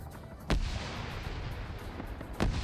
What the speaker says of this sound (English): Coming out of the smoke, trying to pick some dudes off, throw some frags.